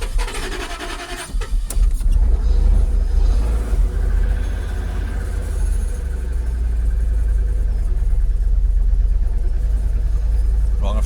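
A Jaguar XKR with restricted performance starts up and settles into a steady idle, its deep, loud engine rumble continuing close by throughout.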